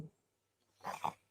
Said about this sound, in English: Growling Yarm.